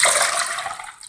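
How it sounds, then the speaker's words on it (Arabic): Water pours into a pot for making red onion pickle, a loud, steady rushing splash that runs on with no break and thins out toward the end. "نحط المية"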